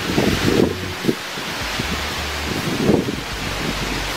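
Strong wind blows outdoors in a historic graveyard, a loud continuous rush with low buffeting gusts against the microphone and rustling leaves.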